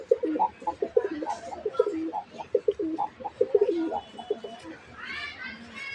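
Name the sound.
pigeon cooing (Gorra pigeon)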